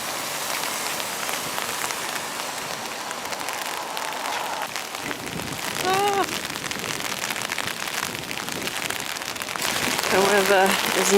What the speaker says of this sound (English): So far the rain's been on and off, now it's decided it's on.